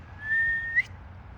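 A person whistles a single sustained, steady note that rises briefly at the end, clear and close in a quiet backyard.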